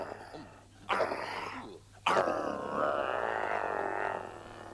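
A cartoon dog in a nursery gives two gruff, growly bark-like vocal bursts, the second drawn out into a rough rumbling howl, fairly close and loud.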